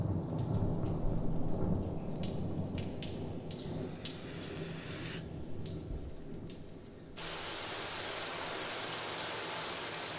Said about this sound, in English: we've got some with some thunder.